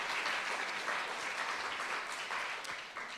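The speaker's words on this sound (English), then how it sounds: "have to clap." Applause from an audience at a literary conversation event in West Hollywood, a steady wash of many hands clapping at moderate, fairly distant level for about three seconds, with no speech over it.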